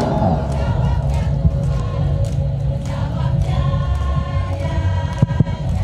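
Crowd at an anniversary celebration cheering and applauding a church women's contingent, a steady roar of voices and shouts with scattered claps throughout, loud and dense.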